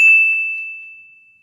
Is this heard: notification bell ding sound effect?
yes